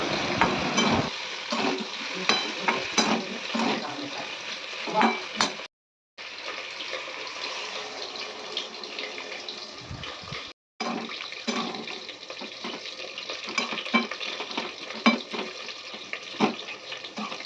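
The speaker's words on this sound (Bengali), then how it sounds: "আর দিয়ে ভালোভাবে তরকারিটা নাড়ছি" Curry with ginger, dried chilli powder and turmeric stirred in a frying pan, a steady close scraping and sizzling that runs throughout with two brief dropouts.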